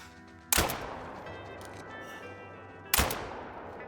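Two loud, sharp rifle shots from a large hunting rifle, about two and a half seconds apart, ring out in the hunting game Call of the Wild during a wild boar hunt in Scotland, each with a quick decaying echo.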